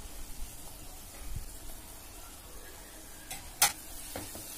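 Spices, pav bhaji masala, salt and tomatoes being stirred in a pan over a low flame for Mumbai-style masala pav, with soft scraping, a faint sizzle and one sharp metallic clink of the spoon against the pan.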